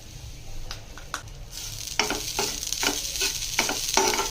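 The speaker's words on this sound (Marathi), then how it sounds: "हे आता थोडं खोबरं भाजून घेऊया।" Grated coconut roasting in a dry pan on the stove, with a soft steady sizzle under repeated scraping strokes of a spatula that grow louder and more frequent toward the end.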